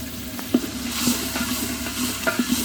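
Meat frying in a pan of spiced masala as it is stirred, with a steady close sizzle broken by several sharp utensil scrapes and knocks against the pan.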